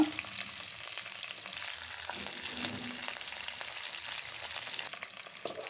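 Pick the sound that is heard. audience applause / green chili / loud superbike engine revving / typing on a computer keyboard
green chili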